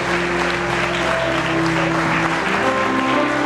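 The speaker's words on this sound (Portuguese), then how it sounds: "Bem forte as palmas para Jesus." A church congregation applauding during a worship service, loud sustained clapping from many people over steady music or amplified hum, continuous throughout.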